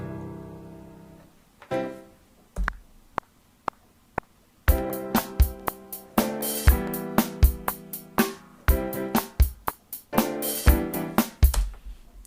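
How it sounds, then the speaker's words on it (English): Software piano notes played solo, starting with sparse single keys, then a lively run of bright chords and notes struck in a quick rhythm. "Let's say I play a piano over the top of this."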